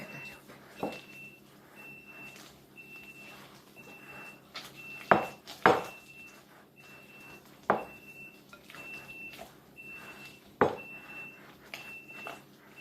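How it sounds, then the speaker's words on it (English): Fruit loaf mixture stirred in a bowl gives faint scraping with several sharp clinks of a utensil against the bowl, while a repeating electronic beep sounds in the background. "Okay, put that into your mixture. Just stir that up."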